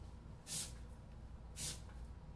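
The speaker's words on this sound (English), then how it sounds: "I'm just gonna hit it with some water" A spray bottle squirts water in two quick, soft hissing spritzes about a second apart, with quiet room noise in between.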